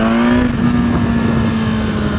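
A 2015 BMW S1000RR motorcycle engine drones loudly and steadily at high revs, a strong sustained tone holding through a quick-shift downshift with rough mechanical texture underneath.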